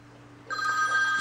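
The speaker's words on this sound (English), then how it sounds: "Oh, I just got a phone call." A phone rings with an incoming call, a clear electronic ring tone starting abruptly and sustaining loudly over a low background hum.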